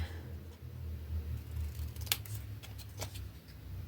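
Paper being cut with scissors for a scrapbooking page, a few soft snips close by against a low steady background hum.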